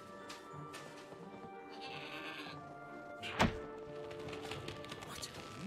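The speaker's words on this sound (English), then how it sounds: "What an amazing goat!" A goat in the Trine 4 video game lets out a loud, close bleat partway through, over light game music and ambience with a soft thud nearby.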